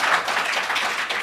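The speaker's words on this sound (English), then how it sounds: "I appreciate the applause" Applause from an audience at a school committee meeting, a dense steady patter of many hands clapping at close range throughout.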